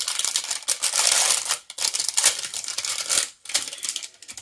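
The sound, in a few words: unwrapping brush scrubby from its plastic package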